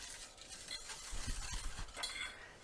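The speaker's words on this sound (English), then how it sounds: "And we'll give that a stir in." A spoon stirs sugar into a lemon chiffon pie mixture in a cast iron setting, making a soft, close, continuous scraping swirl with light clinks, and no voices.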